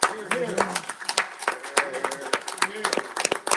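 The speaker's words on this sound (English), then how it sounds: "Sherry, let's give him a stand up applause." A crowd at a county commission meeting gives a standing ovation, with dense clapping throughout and voices talking over it.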